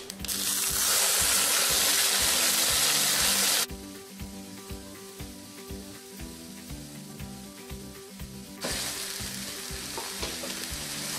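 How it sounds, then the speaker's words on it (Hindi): Cumin and mustard seeds frying in hot oil, a loud dense sizzle for the first few seconds that drops to a softer crackle with steady stirring taps, then swells again near the end. "जीरा डालेंगे 1 चम्मच, मस्टर्ड सीड्स डालेंगे फ्राई 1 चम्मच। इसमें हम अभी ये मसाला डालेंगे।"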